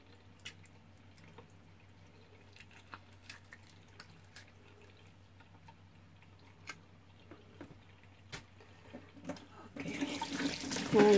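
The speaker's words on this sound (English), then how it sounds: "Now I'm gonna rinse the inside because I don't want too much blood" Kitchen tap water running faintly while a fish is rinsed, with scattered drips and small splashes before a louder gush of running water at the end.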